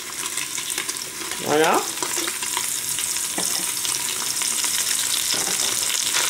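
Leeks and rice frying in a pan for a risotto, a steady close hiss and sizzle with occasional stirring scrapes throughout, as a voice speaks briefly.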